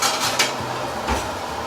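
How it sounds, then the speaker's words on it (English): A spatula scrapes browned bits from the bottom of a cooking pot while making ropa vieja. Short, close scraping and clinking strokes come in quick succession. "So I'm kind of scraping the bottom, trying to get some of that lovely brown off the bottom"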